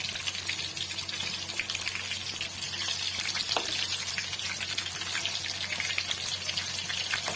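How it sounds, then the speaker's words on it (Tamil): Andhra-style stuffed brinjal frying slowly on low heat in a pan, an even, continuous close sizzle with faint crackle and one brief clink as a piece is turned. "இப்ப ஒரு சைடு லைட்டா கலர் மாற ஆரம்பிச்சிருச்சு, மெதுவா பரட்டி போட்டுக்கலாம்."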